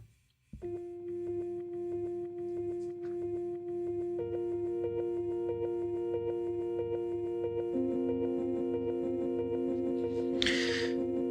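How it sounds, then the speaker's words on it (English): A guitar looper pedal set to reverse infinite loop sustains layered droning tones that build in steps into a steady, moderately quiet background wash, with a brief noisy burst near the end and no talking. "flashback looper, and at the moment I've got it on the reverse setting"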